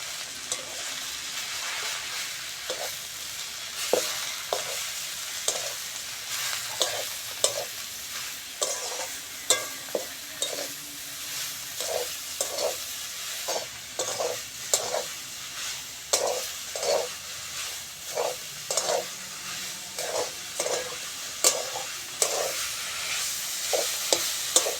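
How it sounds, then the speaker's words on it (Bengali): Fenugreek greens frying in oil in a pan, with a steady bright sizzle and a long run of regular spatula scrapes and stirs close by, the clearest strokes coming at a fairly even pace. "ওই তেলের মধ্যে মেথি শাকটাও ভেজে নেব"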